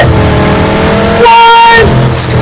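A car engine in the PUBG video game revs loudly and steadily, its pitch rising and falling as the vehicle drives, with a brief higher whine near the end.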